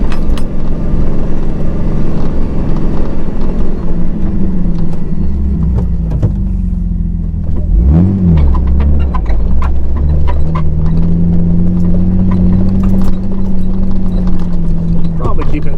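A 4x4 crawls in low gear at about 2,000 RPM and under 5 mph through Carpeter Canyon, its engine a loud, steady close rumble with a rising and falling whine midway, plus scattered knocks and rattles.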